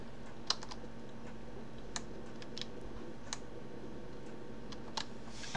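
Keys tapped on a computer keyboard, including an Alt-Gr plus 5 combination, give a few sparse, light clicks spread over several seconds above a steady low background hum.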